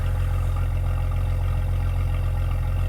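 A Jeep XJ 4.0 engine, cold and running rich, idles at roughly 900 rpm with a close, loud, steady low rumble and an even pulsing beat, no talking.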